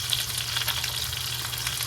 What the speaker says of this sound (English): Whenever you're frying, or at least pan frying skin, try not to touch it too early